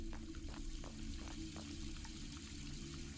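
Water leaking from a pipe in the horror video game Graveyard Shift, a steady hiss of running water with faint repeated drips, heard alone against a low ambient drone.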